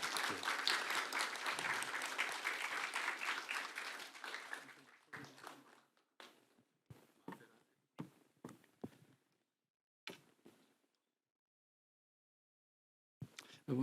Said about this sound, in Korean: 우리 큰 박수로 우리 환영하며 축복합니다.